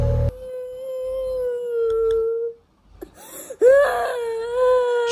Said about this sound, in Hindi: किसी के रोने की आवाज़ आती थी।